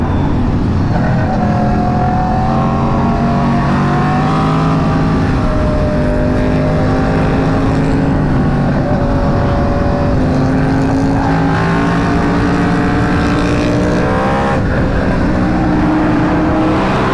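An Aprilia RSV4 sport motorcycle fitted with a 520 chain and sprocket revs hard through a road tunnel. The loud, sustained engine note rises and falls in pitch and echoes around the rider.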